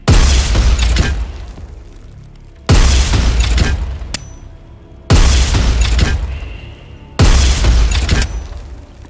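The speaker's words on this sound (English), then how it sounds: "Press to detonate rocket." Rocket launcher rockets detonating in the first-person shooter Prodeus, four loud booming blasts spaced about two seconds apart, each with a sharp attack and a rumbling decay, with no talk.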